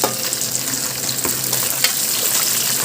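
Fish fries in a pan, giving a dense, continuous close sizzle with crackling pops and faint stirring scrapes throughout.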